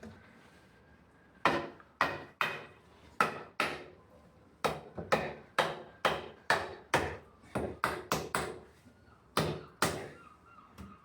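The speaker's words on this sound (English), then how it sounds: "take a hammer." A hammer taps a stick of wood into a window frame in about twenty sharp, separate knocks, sometimes in quick pairs, each one close and crisp against a quiet room.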